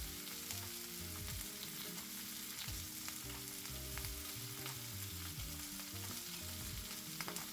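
Beef pieces sear in a hot pan during a stir fry, a steady loud sizzle and crackle with occasional scraping and stirring, no voices present.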